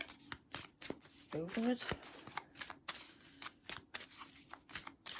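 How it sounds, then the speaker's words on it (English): Tarot cards are shuffled by hand for a card reading, giving quick crisp riffles and soft slaps close to the microphone, with someone speaking quietly over them. "I'm just going to give these a quick shuffle for you."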